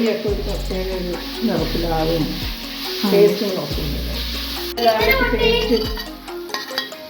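Tomato drops into a pan of crab curry sizzling steadily, with recurring low clatters of stirring and dull thuds of the pan repeating every second or so, and a voice talking throughout.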